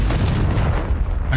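Confringo fire spell blast in Hogwarts Legacy, a loud, booming, explosive burst with a heavy low rumble that fills the whole moment and eases off slightly at the end.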